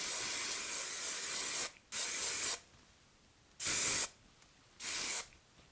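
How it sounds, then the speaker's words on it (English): Moroccanoil Luminous Hairspray with strong finish spritzed onto hair in four close, loud bursts, two long and two shorter, separated by quiet pauses. "I'm going to spritz with my Moroccanoil Luminous Hairspray with the strong finish"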